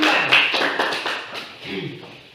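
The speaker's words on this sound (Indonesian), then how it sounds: "Tepuk tangan dulu untuk kelompok" A classroom of students claps for a student group that has just presented, a brief ragged burst of close claps that fades out, with faint voices mixed in near the end.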